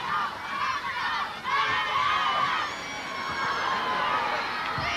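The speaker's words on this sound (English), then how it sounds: "One or two of the audience rather slow to cheer when he made a successful run." An It's a Knockout crowd at a 1981 Dunfermline, Cumbernauld and Glenrothes contest cheers and shouts in a loose, swelling wash of voices, with high shrieks and whoops rising and falling over several seconds at moderate distance.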